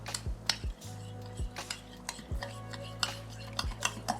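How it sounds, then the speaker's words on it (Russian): A spoon stirs tartar sauce seasoned with salt and black pepper in a bowl, a series of light close clinks and soft scrapes in an irregular rhythm, fairly quiet. "По вкусу добавляю соль и черный перец. Хорошо все перемешиваю."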